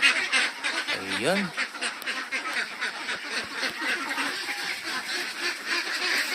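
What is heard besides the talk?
ducks quacking on a duck farm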